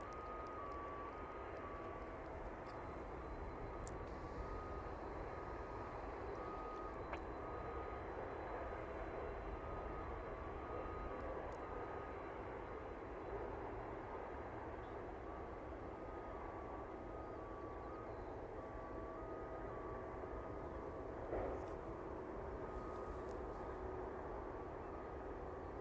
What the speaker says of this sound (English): The UPS 767 arriving into us now then.